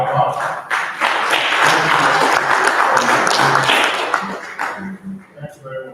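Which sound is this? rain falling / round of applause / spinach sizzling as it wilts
round of applause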